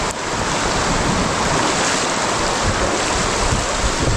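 Tibiao River in Antique Province, Philippines, flowing over rocks: a loud, steady rush of water that holds constant throughout, with no voices.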